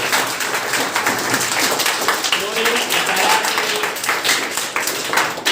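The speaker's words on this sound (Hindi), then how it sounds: "आपकी एक बार जोरदार ताली तो बनती है" A school assembly audience claps loudly with rapid, dense hand claps that swell and dip across the stretch, close and energetic, with some voices mixed in.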